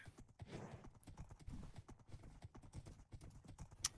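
Horse hooves clip-clop steadily in a medieval-style role-playing game as riders travel along a road, a brisk repeating rhythm of hoofbeats up close with occasional faint talk over it.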